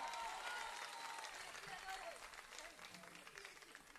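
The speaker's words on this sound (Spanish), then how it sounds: "un aplauso para él." A crowd at a summer evening band concert claps for the bass player, a quiet, fairly distant wash of applause that thins out over the final seconds.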